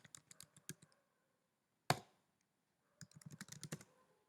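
A password is typed on a computer keyboard in two quick bursts of close, crisp key clicks, split by a pause and a single louder key strike, in a quiet room.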